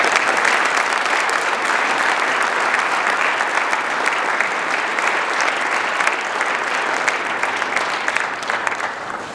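Audience at a school speech day applauding the Board of Governors, a loud, sustained wash of many people clapping together, steady throughout and easing slightly toward the end.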